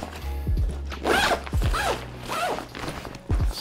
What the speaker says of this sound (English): And we do have a zip over here too.